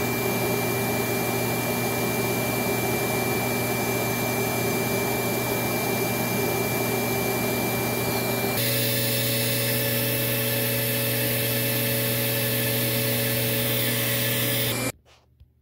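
A Lindhaus Diamante 300 vacuum cleaner runs steadily during an airflow test at the end of its hose, a loud continuous whine and rush of air whose tone shifts midway, then cuts off abruptly at the end.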